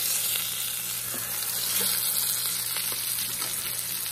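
Rump roast sears in a hot pan before going into a crockpot, giving a constant, even sizzle and frying hiss that carries on without pause, close up and alone.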